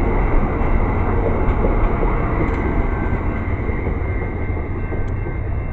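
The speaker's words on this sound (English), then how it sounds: "There goes the train, pulling out of here" An Amtrak train pulls out of the station, its heavy, continuous rolling rumble and rail noise loud and close, steady with no voices.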